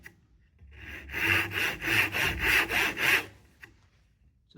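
A chisel pares wood down to a marked line for a chamfer in a construction studies practical, giving a close, loud run of about six rhythmic scraping strokes, then quiet.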